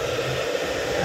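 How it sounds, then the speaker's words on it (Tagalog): A blower dries a freshly mixed paint colour sample, giving a steady, close, unbroken rush of air noise throughout. "So, i-blower niya lang yan guys."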